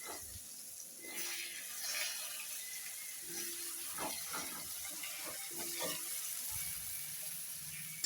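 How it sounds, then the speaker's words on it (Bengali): Cut potatoes hit hot oil in a kadai with salt and turmeric, giving a steady soft sizzle with faint scraping and stirring clatter, heard close and alone. "তেলটা গরম হয়ে গেলে একটু নুন একটু হলুদ দিয়ে আলু কেটে রাখা আলুগুলো দিয়ে দেব।"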